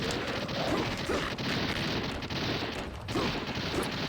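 Rapid, dense gunfire from a 3DO video game, a steady unbroken barrage of shots and blasts at constant loudness throughout, with no talk.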